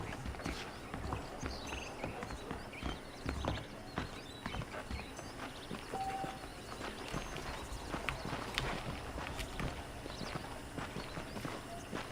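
Horse hooves clip-clopping in the video game Red Dead Redemption, a steady walking rhythm of close, distinct hoof strikes running throughout at moderate volume.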